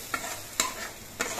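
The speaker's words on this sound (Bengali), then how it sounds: "গুলে নেওয়া মশলাটা দেওয়ার পর আরো কিছুক্ষণ কষিয়ে নিতে হবে।" Spice paste for a rohu fish curry stir-fries in a pan with a low, continuous sizzle, broken by three sharp scrapes of the spoon. The sound is close, and nobody speaks.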